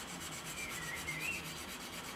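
A plastic model kit part for a Tamiya 1/32 F-16CJ is sanded very lightly, a soft, steady rubbing scrape repeated in quick strokes, faint and close, with no talk.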